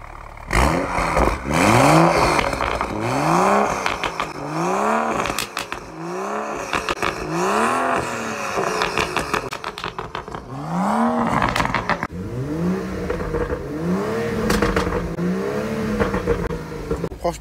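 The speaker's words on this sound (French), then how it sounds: "Quand vous démarrez la voiture, ça se passe comme ça." A BMW 135i F20 with a six-cylinder engine starts and revs repeatedly, each throttle blip rising and falling in pitch in a regular rhythm, loud and close, with a brief pause before a final series of revs.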